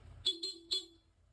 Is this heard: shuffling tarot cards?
no